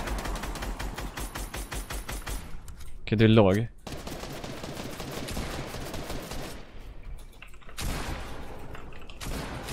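Rapid bursts of Fortnite gunfire rattle in quick repeated volleys, with a short spoken remark in the middle.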